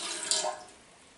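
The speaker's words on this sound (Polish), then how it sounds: "nalał wody do misy" Water poured into a basin, a short faint splash and trickle that fades within a second, alone without talk.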